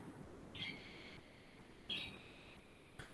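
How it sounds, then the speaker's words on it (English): Birds calling indoors, two short high-pitched chirping calls about a second apart, each trailing into a thin sustained whistle, fairly faint over a quiet room hum, with a soft tap at the end. "these are the birds"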